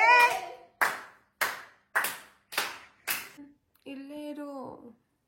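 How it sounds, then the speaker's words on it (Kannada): Six sharp, evenly spaced hand claps ring out close and loud in an otherwise quiet space, followed by a short vocal sound. "ಚಪ್ಪಾಳೆ."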